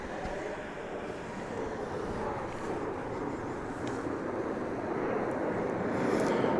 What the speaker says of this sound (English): First of many aircraft we'll see tonight.